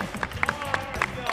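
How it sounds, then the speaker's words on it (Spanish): Crowd applause at a Christmas 3x3 youth football tournament prize-giving, greeting the runners-up as they come forward; a steady patter of clapping with a few sharper claps, mixed with voices. "¡Un aplauso!"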